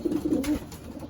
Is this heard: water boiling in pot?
no